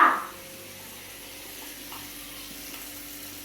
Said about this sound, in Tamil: மீன் குழம்பு மீன் ஃப்ரை பண்ற அம்மா